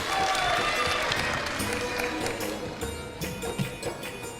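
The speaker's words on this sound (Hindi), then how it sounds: "बिल्कुल सही जवाब, तालियां होनी चाहिए भाई के लिए।" An audience at a Hindi-language religious quiz claps for a correct answer, a steady wash of applause that thins into scattered claps toward the end.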